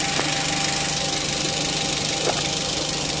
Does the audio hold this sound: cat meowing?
no